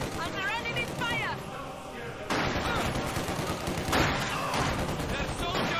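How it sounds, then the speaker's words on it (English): Gunfire rattles without a break in the World War II strategy video game Company of Heroes 2, with dense rifle and machine-gun bursts mixed with shouted battle voices. "Their soldiers are shooting back!"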